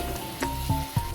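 Ridge gourd in mustard paste with green chillies and ginger sizzles gently in a pan over a low flame, a close, soft frying crackle with a few brief pops and stirs.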